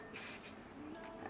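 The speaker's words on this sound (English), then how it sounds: "Bit of wax spray." A short hiss of wax hair spray spritzed during styling of a curly mohawk with braids, one quick burst followed by a fainter second puff, close and soft.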